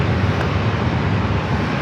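A Southwest Boeing 737 MAX 8 arriving at San Diego airport, a loud, steady broadband engine roar that stays constant throughout, close and without speech.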